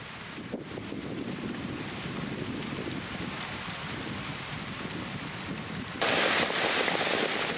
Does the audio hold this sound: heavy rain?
yes